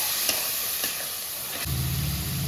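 Tomatoes go into a sizzling tengra fish curry, a continuous hiss of frying with light stirring, joined by a low steady hum partway through.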